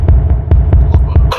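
Oren's sound from the Sprunki game: a loud, steady low throbbing hum with a regular pulse of soft beats roughly every fifth of a second, ending in a brief brighter burst.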